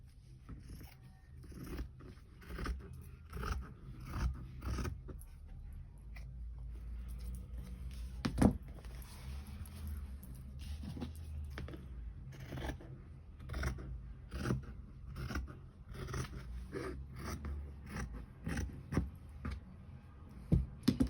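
Scissors snip and scrape repeatedly through fabric against a faint background rumble, irregular cuts continuing steadily at close range.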